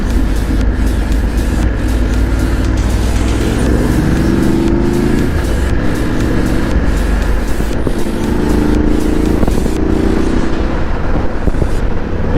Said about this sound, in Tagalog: O yan, medyo nag-build up na yung traffic dito